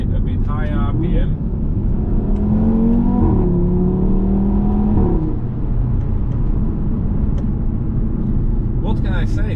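A 2.5 TFSI five-cylinder engine in an Audi RS3 with a P0016 correlation fault revs up and holds at higher RPM, a steady loud engine drone with rising tones throughout, with a voice speaking briefly at the start and end.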